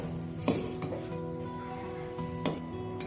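Ghee and sugar syrup sizzling and frying in a pan while making fenugreek laddoos, a steady close bubbling hiss with a couple of brief stirring clinks of a utensil against the pan.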